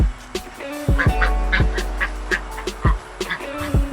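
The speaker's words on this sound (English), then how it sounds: "We got chickens running around." Poultry on a farm compound calling out in a busy series of honking, clucking bursts, some close and loud, others farther off, with no talk over them.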